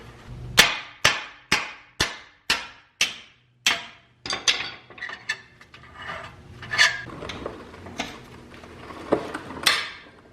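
Metal tools work at the power plant frame of a Mazda Miata drivetrain. A run of about eight sharp, evenly spaced metallic clangs rings out close and loud, followed by scattered scraping, rattling and a few more clanks.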